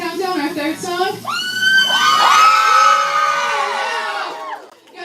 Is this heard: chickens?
no